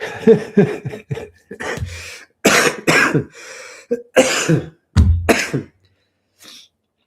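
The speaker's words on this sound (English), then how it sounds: "I really want this cough to go away" A run of harsh, chesty coughs, several in quick succession with short pauses between, close and loud, followed by a faint throat clear.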